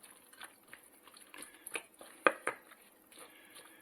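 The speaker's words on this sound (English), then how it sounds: "Let's stir that to get the wet ingredients together." Salmon patty mixture with wet ingredients being stirred in a bowl, soft irregular scrapes and a few sharper clinks of the utensil against the bowl, close and fairly quiet, with no talk.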